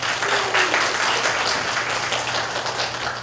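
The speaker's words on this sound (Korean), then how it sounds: "밝은 느낌의 박수, 참 기분이 좋습니다." An audience at a reading-themed concert and lecture applauds steadily, a dense, even wash of many hands clapping at moderate volume for about three seconds.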